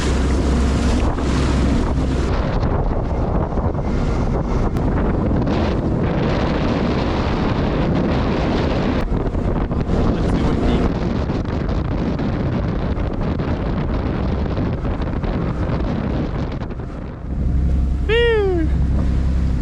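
Steady rumbling wind and water noise from a moving boat off Dubrovnik, Croatia, continuous and loud, with a brief chirping call near the end.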